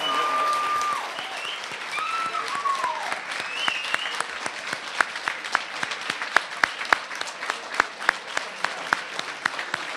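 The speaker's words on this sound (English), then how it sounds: "If we can have another round of applause." Audience applause for panelists at the end of a community violence-prevention conference session, broad and sustained for about ten seconds, with some talk over the start before it settles into steady clapping.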